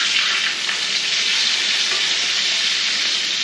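A thick steak sizzles steadily in a hot pan, a loud, continuous hiss and crackle of frying fat that holds constant throughout with no voices.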